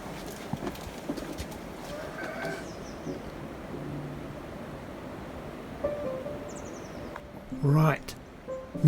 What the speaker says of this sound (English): Two men are setting off on a journey on a donkey.